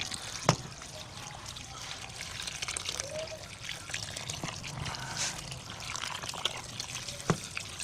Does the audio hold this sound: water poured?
yes